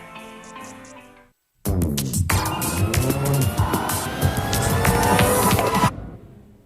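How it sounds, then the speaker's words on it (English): Engine of a newly built van revving up during factory testing on an assembly line, a loud sustained roar that starts abruptly after a brief quiet and then cuts off, with faint background tones before it. "Workers start up the ignition and run the van through a series of tests."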